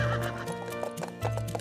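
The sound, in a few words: horse neighing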